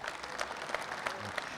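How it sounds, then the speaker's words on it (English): Applause for a successful young female hunter, a brief patter of clapping from a small audience, fairly quiet with distinct individual claps and a low murmur underneath. "Let's give her a round of applause"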